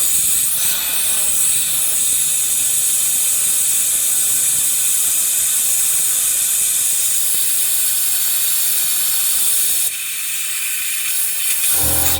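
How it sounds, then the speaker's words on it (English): Compressed air rushes out of a Viair Ultra Duty onboard air tank installed on a 2018 Silverado as a loud, steady, close hiss. It runs unbroken for about twelve seconds and drops slightly in level near the end. "I'm going to release the air until the compressor cuts on"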